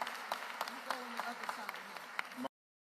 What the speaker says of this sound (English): I want to start by asking if we can give a round of applause to Renee Garcia.